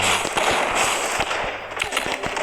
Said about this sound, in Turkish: Ya oğlum her yerden sıkıyorlar.